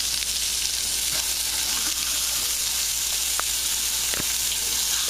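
Pork chops fry in a pan with a steady close sizzle throughout, broken by a couple of short sharp clicks as the meat is turned over with a utensil.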